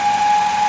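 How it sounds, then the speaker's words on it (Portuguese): A 2018 Fiat Argo engine with a bent valve and a punctured cover diaphragm idles close by, its running drone topped by a steady, sharp, high-pitched whistle throughout. "tem esse barulho aí que parece um apito"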